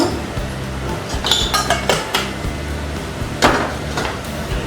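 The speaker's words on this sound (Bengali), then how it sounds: "এবার কর্নফ্লাওয়ারটাকেও ভালো করে এগুলোর সাথে মিশিয়ে নিব" Cornflour is worked into a noodle pakora mixture in a bowl, a utensil clinking and knocking against the bowl in irregular, close strikes.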